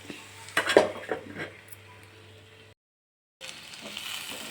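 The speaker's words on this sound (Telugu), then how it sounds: "ఇలా పచ్చికారం వేసి కొంచెం సేపు మళ్ళీ మూత పెట్టుకుని మగ్గనిచ్చుకోండి." A metal lid clatters onto a pan of frying white brinjal with green chilli paste, giving a few sharp clinks and knocks close by, then the sound cuts to silence before a faint sizzle returns.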